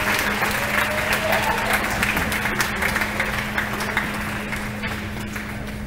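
A crowd keeps clapping for two girls at a school athletic signing event, a dense, steady round of applause that eases off gradually, with a faint hum beneath it.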